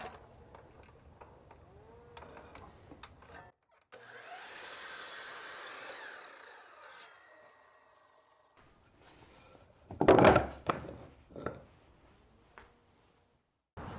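A power saw cuts wooden nightstand legs down to size in a home woodworking shop. It runs a steady whine for about three seconds, followed by scattered knocks and thumps of wood being handled.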